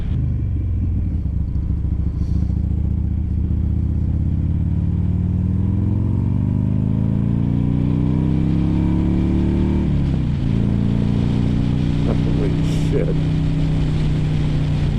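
A 2006 Buell Ulysses motorcycle engine roars loudly up through rising revs while being ridden, a continuous close drone with wind rumble and a brief dip at a gear change.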